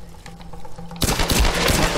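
A sudden burst of rapid gunfire in the video game Tomb Raider Definitive Edition, loud repeated shots erupting after a quieter ambient lead-in and continuing to the end.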